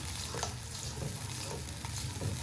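Yogurt and three green chillies stirred into a masala fish curry in a pan, a steady close scraping and stirring over a soft continuous sizzle, with no voices.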